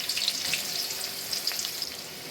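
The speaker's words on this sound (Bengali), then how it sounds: "এখানে আমি পেঁয়াজ আর মরিচটা দিয়ে ভেজে নিব আগে লাল লাল করে" Sliced onions and green chillies frying in hot oil for a Bengali hilsa fish curry, a soft, steady hiss close by with faint crackles, no talk.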